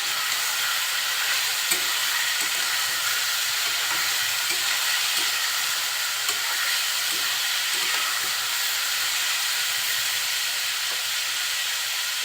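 Potatoes with salt and turmeric fry loudly for a Bengali hotel-style aloo bhaji, a dense continuous sizzling hiss broken by soft, irregular stirring scrapes, with no voices.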